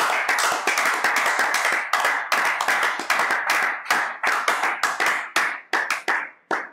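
A church congregation claps loudly and steadily at the close of a French-language prayer broadcast, dense applause that thins into scattered, separate claps near the end, with no talking.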